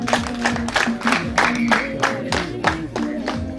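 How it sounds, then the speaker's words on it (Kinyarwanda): Guests at a Rwandan wedding ceremony clap their hands in a steady rhythmic beat, loud and close, mixed with voices and tonal sound throughout. "amashyi menshi cyane"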